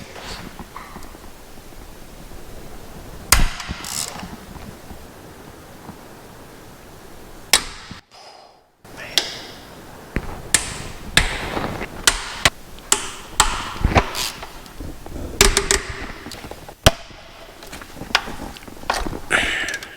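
Intake manifold bolts being loosened and removed from a Ford 4.6 2V engine, with scattered sharp metallic clicks and ratchet-like taps in irregular bursts, up close, with short pauses between them and no talk.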